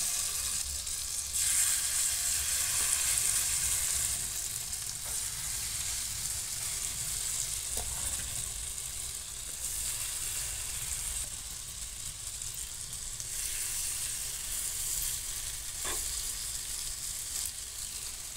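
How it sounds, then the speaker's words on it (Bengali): Chicken tikka fries in a hot pan with a little butter and white oil, giving a steady, even sizzle and hiss that runs unbroken, fairly close and moderately quiet, with no voices. "একটা প্যান গরম করে নিয়েছি, নিয়ে তাতে অল্প একটু বাটার আর সাদা তেল দিয়ে দেবো"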